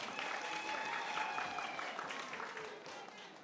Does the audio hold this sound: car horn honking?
no